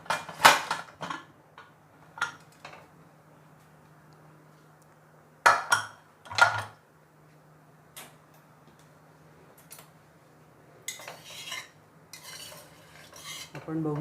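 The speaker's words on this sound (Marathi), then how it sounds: "कुकर आता उघडून बघूया." A pressure cooker of cooked chickpeas is opened, with a few sharp metallic clanks and rattles of the lid and pot spaced apart over otherwise quiet kitchen room tone.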